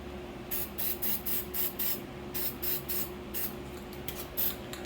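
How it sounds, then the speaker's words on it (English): A spray paint can of white paint hisses in a series of short, repeated bursts with brief pauses, close and fairly loud. "I spray the white onto the tool"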